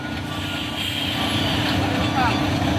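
A trailer truck reverses, with its engine rumbling steadily and faint repeating reversing beeps beneath voices talking close by.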